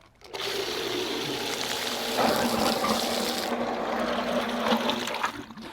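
A FOTING sump pump with float switch forcefully pumps water, producing a loud, continuous gushing and splashing rush with a steady motor hum underneath, running for several seconds before cutting off.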